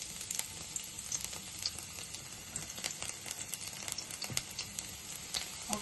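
Chopped garlic fries in a spoonful of hot oil in a kadai for gobi 65, a soft continuous sizzle dotted with small crackles and pops, close but fairly quiet, with no voices.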